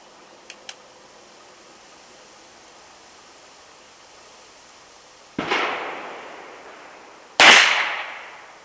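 Two sharp .22 long rifle gunshots firing Winchester jacketed hollow points into a gel block outdoors, loud close cracks about two seconds apart, each with a long decaying echo, preceded by faint clicks.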